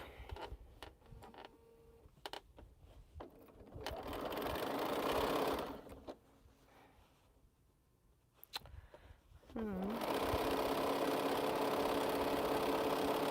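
Sewing machine stitching quilt strip sets, bursts of rapid mechanical whirring that stop and restart, with a long steady run at the end, close and clear.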